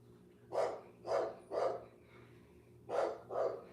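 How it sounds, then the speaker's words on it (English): A dog barks five times at a moderate distance, three quick barks, a pause, then two more, over a quiet low hum. "It's another dog walking by, I can tell."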